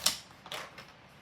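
A paper trimmer slices scrapbook paper: a sharp click followed by a short scraping swipe of the blade and a faint second tick, close and quiet.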